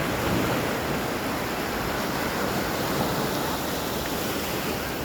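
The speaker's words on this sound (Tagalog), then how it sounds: "Maganda po yung alon ng dagat, hindi siya masyadong mataas, tapos hindi siya masyadong malakas." Gentle, low sea waves at Matabungkay beach resort in Lian, Batangas, roll in as a steady, even wash of surf, constant and unbroken with no voices.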